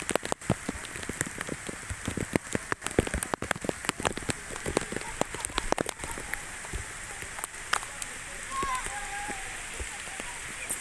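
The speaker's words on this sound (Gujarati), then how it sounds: "આ ચાલુ વરસાદ છે અત્યારે લાઈવ રવિવારે સવારે" Rain falling on a Sunday morning, with many sharp close drops pattering on a surface over a steady wash of rainfall, while people talk faintly in the background.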